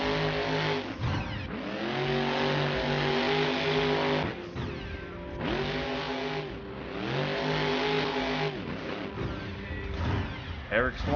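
A monster truck engine in BeamNG.drive, staging for a Monster Jam time trial in the Oilex Arena, revs loudly in repeated surges with sustained roaring pulls, while a commentator talks over it throughout.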